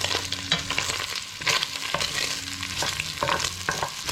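Bacon sizzles and spits in a frying pan up close, a continuous crackling hiss broken by occasional scraping knocks of a utensil, with no one speaking.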